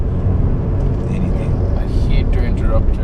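A 1994 Mercedes-Benz C-Class accelerates with a loud, steady engine and road rumble heard from inside the car, running continuously at close range.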